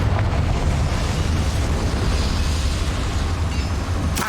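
A Confringo fire spell explodes in Hogwarts Legacy, a sustained roaring blast with heavy low rumble and crackling hiss that fills the whole moment, loud and close, with a sharp burst near the end.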